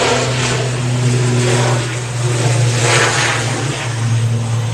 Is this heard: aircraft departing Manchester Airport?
yes